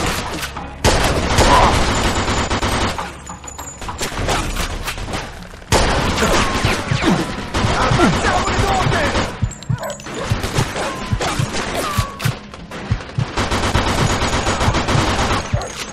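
Rapid bursts of gunfire in the Mafia II video game, fusillades and machine-gun volleys loud and dense, broken by short lulls, with voices talking in between.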